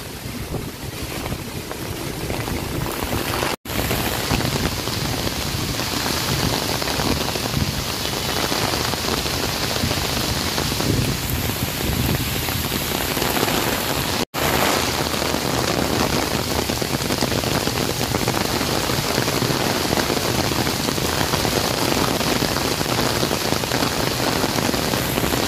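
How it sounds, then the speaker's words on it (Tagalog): Heavy rain pouring outdoors in a city plaza at Liwasang Bonifacio, a loud dense continuous hiss of drops on surfaces with wind buffeting the microphone, no voices heard. "Yan, naubutan tayo ng ulan mga tropa kids. Yan, lumakas na naman."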